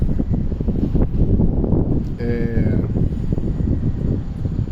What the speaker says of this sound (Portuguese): É porque tá ventando muito.